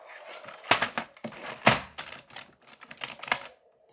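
Keys on a computer keyboard clack in irregular bursts, loud and close, with several sharp strikes over a few seconds and brief pauses between them.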